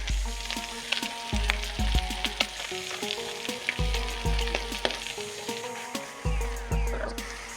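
Pasta, sauce and ground beef sizzle steadily in a hot pan while a utensil stirs and scrapes through them in repeated strokes, close and moderately loud.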